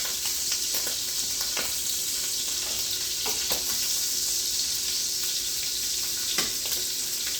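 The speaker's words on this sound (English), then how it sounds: "we're gonna cook the red peppers, the onions, and some garlic, and saute it" Red peppers, onions and garlic sauté in oil and fat for chicken and shrimp carbonara, giving a steady, close sizzle with a few light stirring clicks.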